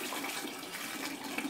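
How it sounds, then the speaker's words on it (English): Water pours steadily from a pitcher through a fish net into a bucket, a continuous soft splashing rush that runs unbroken and fairly quiet for the whole moment, with no talking. "slowly pour this water from the pitcher with the fish into it, into the net, to where the water will go through the net into the bucket"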